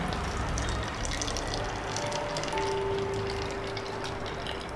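Room-temperature plain water poured and mixed for tie-dye at home, a continuous close liquid rush with faint tonal ringing, no talking.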